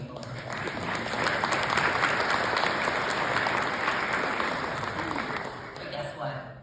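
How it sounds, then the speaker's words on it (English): An audience at an emergency medicine award event breaks into loud, sustained applause. The dense clapping swells quickly, holds steady for several seconds, then tapers off toward the end. "if you would please help me give a round of applause to my whole table"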